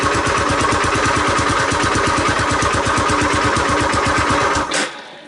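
A 1985 Honda ATC250SX three-wheeler engine runs rough and loud with a rapid, steady pulsing beat, then sputters and dies near the end, leaving quiet.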